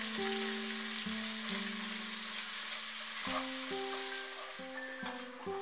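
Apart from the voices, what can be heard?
onions frying on medium heat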